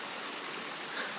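River water flowing in Yellowstone, a brief, steady rushing hiss of the current, moderately faint and even, with no talk.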